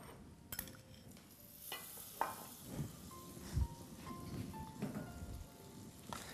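Butter and ghee warm together in a pan for ma'amoul, kept from boiling, giving a soft, faint sizzle with light scraping and stirring clicks scattered throughout at low volume.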